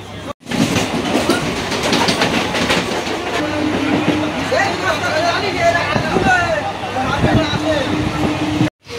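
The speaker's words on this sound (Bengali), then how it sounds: "তো বন্ধুরা আমাদের ট্রেন বারাসাত জংশন থেকে ছেড়ে দিয়েছে" A local train pulls out of Barasat Junction, heard from inside the vendor compartment: a continuous rumbling clickety-clack of the wheels with passengers chattering throughout.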